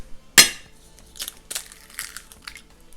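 Two eggs are cracked for a chicken cutlet breading, with one sharp crack followed by softer crunching and shell crinkling sounds, close up in a quiet kitchen.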